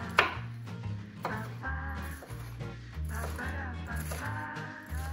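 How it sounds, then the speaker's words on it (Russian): A knife dices a bell pepper into small cubes for a quick corn salad, with light, sparse chops on a board heard under steady background music. "Перец тоже нарезаю небольшим кубиком."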